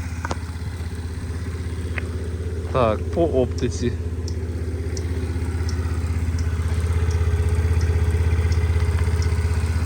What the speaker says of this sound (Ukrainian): По двигунчику, в принципі, питань немає гарно працює.